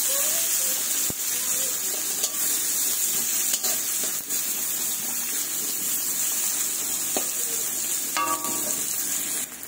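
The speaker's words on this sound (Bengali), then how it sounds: "পেঁয়াজটাকে লাল লাল করে ভেজে নেব।" Chopped onions frying in hot mustard oil in a wok for a Bengali fish curry of shingi and magur, a steady, loud hiss and crackle running throughout with a few light clinks.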